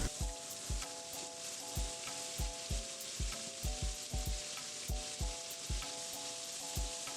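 Mirepoix vegetables sizzling in a hot pan, a steady frying hiss punctuated by regular thuds and clinks of a utensil stirring, with no talk.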